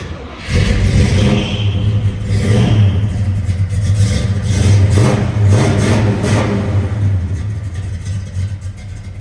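A newly built 1970 Chevrolet Chevelle engine revs up loudly and close by in repeated throaty pulls, settling into a rumbling idle between bursts, with no voices over it.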